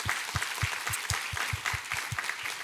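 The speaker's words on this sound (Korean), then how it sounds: "찬양받기 합당하신 하나님께 우리 감사와 영광의 박수 올려드리도록 하겠습니다" A church congregation claps during a Sunday worship service, a steady run of applause with regular beats filling the room, no voices over it.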